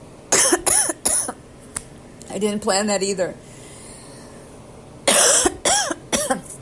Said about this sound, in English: At the end of this all, I have a raging cough attack